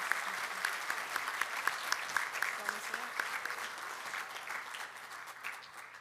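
Graduation ceremony crowd applauding parents and families, sustained dense clapping from a large audience heard at a distance, steady and fairly soft with scattered sharper claps throughout.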